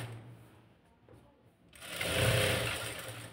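Domestic sewing machine stitching a blouse, starting after a quiet pause and running as a loud, steady mechanical whir with a rapid needle rattle for over a second.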